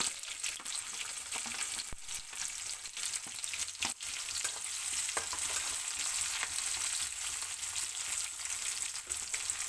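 Onions and chillies fry for vegetable fried rice, sizzling steadily and close in a pan, with a few sharp clicks as they are stirred and no voices over them.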